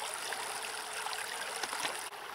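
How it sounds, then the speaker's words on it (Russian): Forest stream in the taiga at night, a continuous close burble and trickle of running water, steady and unbroken, with no voices over it. "Только ручей один слышно."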